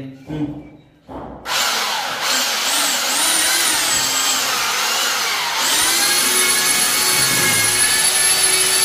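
An electric handheld mixing machine stirs cement from a 25 kg bag, spinning up after a few short knocks into a loud, steady, drill-like whine that holds close and constant.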